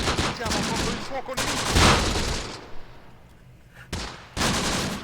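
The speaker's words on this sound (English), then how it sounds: "There we go, getting some decent rifle shots at least." Rifle gunfire in the tactical war game Close Combat: The Bloody First, with bursts of shots and battle noise, a loud blast near the middle, then a quieter lull before dense firing resumes.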